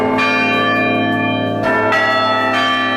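Church tower bells ring out a song in a sequence of rich, resonant strikes, several notes sounding one after another as a tune, loud with long ringing decay.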